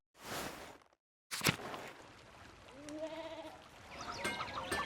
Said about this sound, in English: there's sheep blocking the way